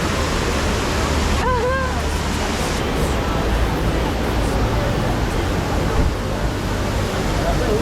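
Cheeyappara Waterfalls in Munnar, Kerala, roar as a loud, steady wash of rushing water, broad and unbroken, with faint voices and a brief high chirp sounding early against it.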